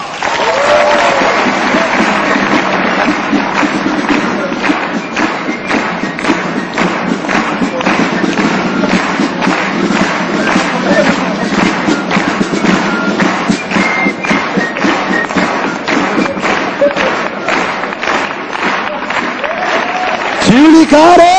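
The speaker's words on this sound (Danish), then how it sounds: "Tag rigtig godt imod Uffe Holm!" Sustained applause from a live audience greets comedian Uffe Holm on stage at Tivoli during the Zulu Comedy Galla 2011, dense steady clapping with thumping hands filling the hall for about twenty seconds before a voice breaks in at the end.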